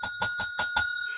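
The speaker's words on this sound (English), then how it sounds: "Ring that bell." Five quick, bright rings of a bicycle-style bell in an even rhythm, loud and close, the last ring fading out with no talking over it.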